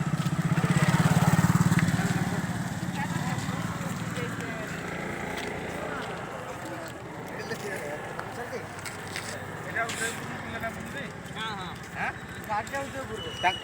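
A motorcycle engine drones loud and close at the start, then fades into a busy outdoor mix of rumble and clatter while people talk nearby.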